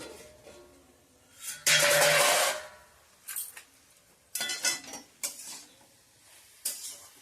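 Drumstick flowers cooking in a pot with chilli powder are stirred with a spoon. Loud scraping bursts and clinks against the pot alternate with quieter gaps of low sizzling.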